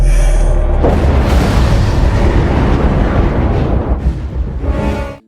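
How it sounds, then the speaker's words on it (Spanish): A huge chain explosion in a sci-fi film: a loud, sustained roaring blast with rolling booms and crackling debris that builds for several seconds, then breaks into scattered bursts and fades out abruptly. "en la segunda trupa ocurre una enorme explosión en cadena"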